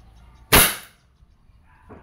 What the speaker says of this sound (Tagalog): dalawang single action. Firing.